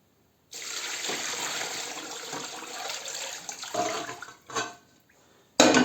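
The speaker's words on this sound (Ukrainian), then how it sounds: "Отак заливаємо воду, аби добре скрило" Water pours steadily into a pot holding a cleaned pig's head, ear and tenderloin for homemade brawn, a close, continuous splashing stream that breaks off, returns in a couple of short gushes, then a final burst.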